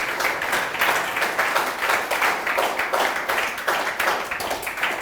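An audience claps for a student at a UPSC workshop, a room of people applauding in a fairly rhythmic, pulsing pattern, moderately loud and steady throughout.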